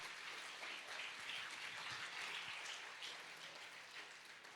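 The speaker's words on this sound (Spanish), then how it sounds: "Alguien denle un aplauso a Dios en esta hora" A church congregation applauds during a service. Steady, diffuse clapping sounds like soft rain, heard at a distance and sustained throughout at a fairly low level.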